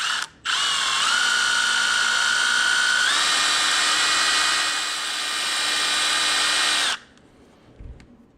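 A power drill spinning a brake pin to buff it, as on a 2016 Honda CRF230F front wheel, whines at high speed for several seconds, its pitch stepping up partway through, then cuts off abruptly, followed by a soft clunk.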